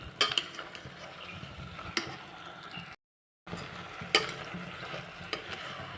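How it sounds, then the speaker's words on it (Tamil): Baby jackfruit is stirred into masala in a pan for biryani, with soft sizzling and scraping strokes of a utensil against the pan, briefly cut to silence midway. "இந்த மசாலாவில் போட்டு இந்த பேபி ஜாக் ஃப்ரூட்டை நல்லா மிக்ஸ் பண்ணிகிட்டே இருக்கணும்"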